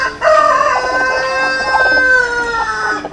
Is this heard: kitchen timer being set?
no